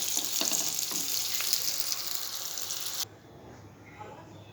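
Eggplant slices sizzle and crackle steadily in oil for about three seconds, then the frying noise drops away to a quieter kitchen background.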